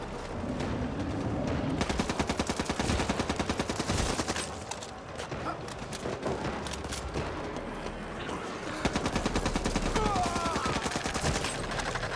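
Minigun fire in Back 4 Blood during an Ogre boss fight on a ship, with long rapid-fire bursts of rattling shots starting and stopping over a busy game mix and occasional voices.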